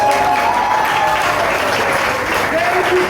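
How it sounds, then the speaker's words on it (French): Steady, dense audience applause at a café slam poetry night, continuous and fairly loud throughout, with faint voices and a tonal sound underneath. "On applaudit encore une fois de plus Ray Witty, s'il vous plaît."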